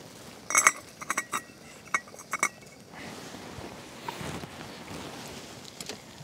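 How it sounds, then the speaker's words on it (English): A lid lifted off a pot, several sharp metallic clinks and clatters in quick succession up close, then quieter handling sounds. "Let's get the lid off."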